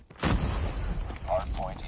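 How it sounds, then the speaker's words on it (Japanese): A sharp grenade blast in Call of Duty Mobile bursts loudly, then rumbles on beneath excited Japanese esports commentary during a competitive match. "グレネード完璧だ"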